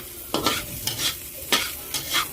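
Onion and garlic sauté in a hot pan, a steady soft sizzle broken by several scraping stir strokes at uneven intervals, close and alone with no voices.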